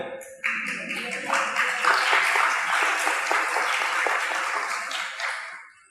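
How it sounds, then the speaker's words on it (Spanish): A church congregation breaks into applause during a sermon, with a sudden onset of many hands clapping close and lively, holding steady for several seconds before tapering off. "Me alegro que hayas aplaudido ahora"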